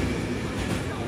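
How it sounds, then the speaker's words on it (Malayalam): An Italian regional express train pulling into a busy station platform, a loud, steady rumble of rolling wheels and engine filling the whole moment. "നമ്മുടെ റീജിയണൽ എക്സ്പ്രസ് 4044 ട്രെയിൻ അതാ വന്നുകൊണ്ടിരിക്കുകയാണ്"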